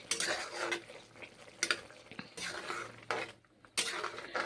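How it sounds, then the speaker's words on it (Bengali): Mushrooms and carrots being stirred and sautéed in a pan, with repeated scraping and clinking of a utensil against the metal over a soft sizzle, in uneven bursts close by. "গাজরগুলো এখন দিয়েছি নেড়ে চেড়ে কষে নিচ্ছি মাশরুম গাজর কষে নিচ্ছি এইভাবে"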